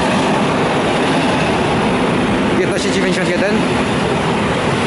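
A train rolls steadily through Mysłaków station, a loud continuous roar of wheels and heavy rumbling with faint brake squeals, while someone speaks briefly over it.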